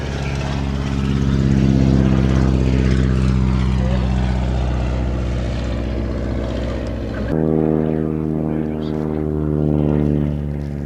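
Focke-Wulf Stieglitz propeller biplane at the Shuttleworth air show, its engine holding a steady loud drone with a strong harmonic hum that shifts pitch abruptly partway through, with a commentator's voice over the top.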